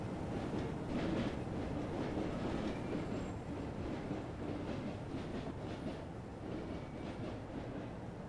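In Train Simulator 2017 on the Köln–Koblenz route, a passing train gives off a sustained loud rumble with rhythmic clickety-clack pulses and a faint high wheel squeal, heard close and alone without speech.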